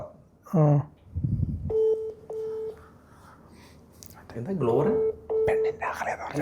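An outgoing phone call rings with repeated electronic ring tones, separated by gaps and overlapped by a person talking nearby.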